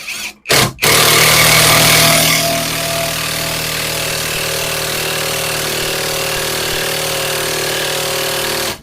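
An Eltos cordless impact driver (BL300Hm, 20 V, 4 Ah battery) hammers a screw in at first speed, a loud, continuous, close rattle that starts after a couple of brief taps and runs almost the whole clip.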